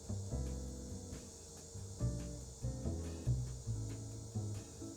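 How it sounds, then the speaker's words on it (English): A constant high-pitched buzz of cicadas drones outdoors, while low tonal humming sounds rise and fall in short bursts underneath. "Do you hear the goddamn cicadas outside?"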